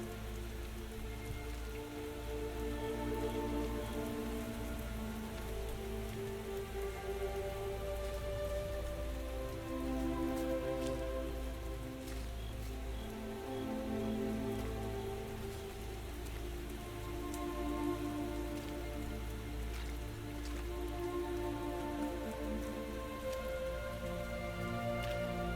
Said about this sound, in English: I listen to like orchestra music with the like ambient sound of rain.